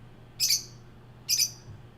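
Two short, bright bird chirps sound about a second apart over a quiet, faintly humming background.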